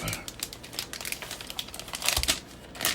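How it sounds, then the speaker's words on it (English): Plastic wrapping peeled off a new Echo Show 5 smart speaker, a loud, close, continuous crinkling and crackling with sharper rustles near the end. "You just peel the plastic off."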